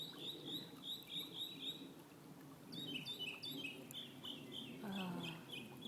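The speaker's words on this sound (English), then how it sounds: "The birds are singing." Small birds sing outdoors on a spring day, a run of bright chirps and trills repeating in bursts, with a duck-like quack and rustling low noise underneath, fairly faint.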